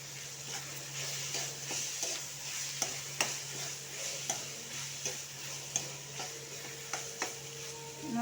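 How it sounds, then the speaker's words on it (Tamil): Onions and tomatoes sautéing in a pan with ginger-garlic paste for kadala curry, a soft continuous sizzle with a low steady hum beneath and occasional scattered spoon taps and clicks, no voices. "வெங்காயம் தக்காளிலாம் நல்லா வதங்கணும்"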